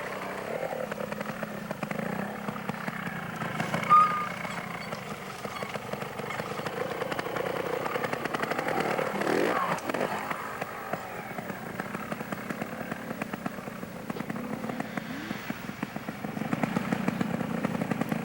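Trials motorcycles from 1993 at Dayton Dirt Riders pick their way over logs and around trees, a distant, fairly faint engine buzzing and revving unevenly throughout, with a few clattering bumps.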